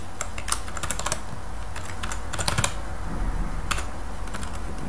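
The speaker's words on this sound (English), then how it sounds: "we're going to type a very simple PHP sentence" Typing on a computer keyboard, entering simple PHP code. Irregular bursts of close, crisp key clicks come in quick clusters with short pauses between them, and no one speaks.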